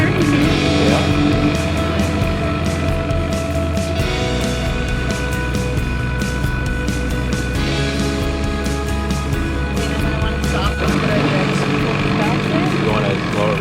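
A dinghy outboard motor runs steadily and loudly up close, its buzzing engine drone shifting pitch as the throttle changes, with voices talking over it.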